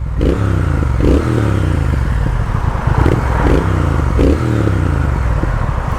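A 2020 Triumph Speed Twin engine runs under way, a loud, close, throaty rumble that rises and falls as the throttle is worked, with wind and road noise mixed in.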